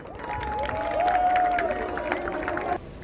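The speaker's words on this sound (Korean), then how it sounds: "큰 박수로 맞이해 주십시오" Crowd applause and cheering welcome a speaker announcing a presidential run at a Korean political event, a sustained wash of clapping with a tonal whistle-like line through the middle, ending abruptly after about three seconds.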